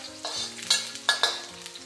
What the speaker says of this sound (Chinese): 再把干海椒给倒进来，继续煸炒2下。